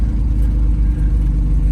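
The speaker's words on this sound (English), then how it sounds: "Hum happening there, and I think it might be in that air conditioning" Steady low hum from the air conditioning inside a 1971 Mercedes 280 SL, droning evenly with engine and road rumble throughout and no voices.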